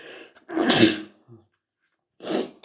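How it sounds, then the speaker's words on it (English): A single loud sneeze with a sharp breathy burst, preceded by a short intake of breath and followed by a brief exhale, close to the listener. "I'm going to sneeze."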